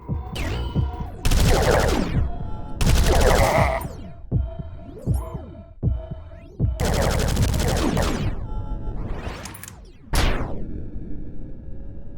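Rapid riveter gun fire in the video game Beneath Dusk, coming as loud sustained metallic bursts with short pauses between volleys and mechanical whirring tails, with no talking.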